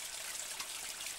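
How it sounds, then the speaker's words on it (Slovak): A small waterfall in a mountain gorge in the Branisko range gives a faint, steady hiss of falling and trickling water, continuous and distant, with no voices. "Nuž a teraz máme pravdepodobne ten najväčší vodopádik."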